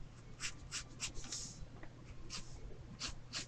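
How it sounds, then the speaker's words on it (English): A pencil lightly sketches on paper in short, scratchy strokes with small pauses between them, close and soft over a low steady hum. "you can either use a pencil or lightly sketch"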